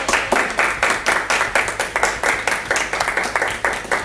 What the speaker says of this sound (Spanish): Hay que aplaudir los chicos también a ellos